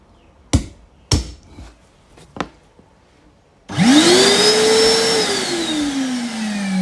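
A household vacuum cleaner fitted to a Wi-Fi smart plug switches on after several sharp handling knocks, its motor spinning up into a loud, steady whine and roar that runs continuously to the end.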